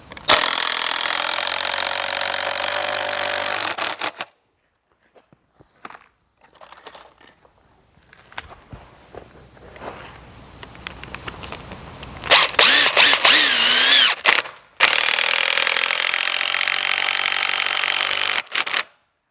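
Power drill driving screws into 2x4 lumber while building a firewood rack: loud sustained whirring bursts at the start and end, with quieter shuffling and handling noises between them, no voices.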